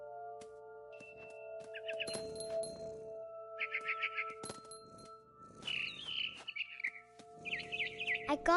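Birds in the What Remains of Edith Finch video game chirp in short bright bursts of trills, several spaced calls over soft rustling and ambient game music tones.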